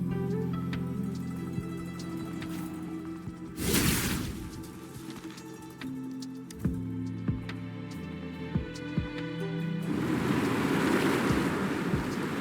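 Water washes and recedes in the game Wuthering Waves, a continuous surging rush with a loud swell near the start and another toward the end, scattered taps and knocks over a low tonal hum underneath.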